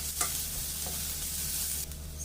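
Onion frying and browning in a pan after garlic, a dense, even sizzle with faint crackles close by, steady throughout and free of speech.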